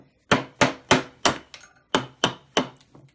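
Eight sharp mallet blows on a chisel cutting into cross-grained wood, evenly spaced knocks with a brief pause midway, close and crisp.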